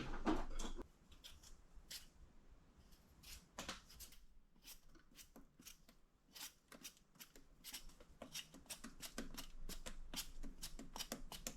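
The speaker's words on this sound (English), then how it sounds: "Let's peel the potato." A potato being peeled by hand while making potato salad, giving a steady run of short, dry scraping strokes close up, irregular in rhythm and moderately quiet, with no talking.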